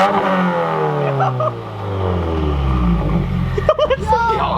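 A 2018 Subaru WRX fitted with a Nameless axle-back exhaust revs up and then falls back, a loud, close engine sweep ending in a few sharp pops and crackles.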